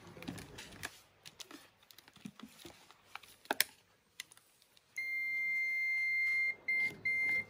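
A multimeter in buzzer mode gives a steady electronic beep that sounds continuously for a couple of seconds, briefly breaks twice, then resumes, following quiet clicks and handling noise.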